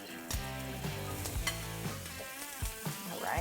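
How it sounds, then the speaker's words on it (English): Chicken seasoned with kosher salt, pepper and thyme sizzles loudly in a hot pan, a steady close frying hiss with occasional sharper pops and crackles throughout. "I've seasoned them with a little bit of kosher salt, pepper, thyme, and that's going to go right into the pan"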